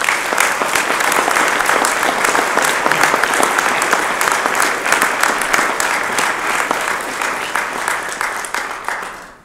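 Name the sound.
applause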